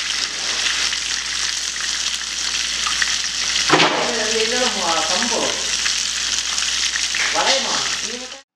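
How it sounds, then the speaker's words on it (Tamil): Chicken fries in hot oil over medium heat with a constant, bright sizzle and crackle that carries through the whole stretch. A person talks over the frying midway, and the sizzling stays steady underneath. "மீடியமில் வச்சு ரெண்டு சைடும் நல்லா ஃப்ரை பண்ணி எடுக்கணும்"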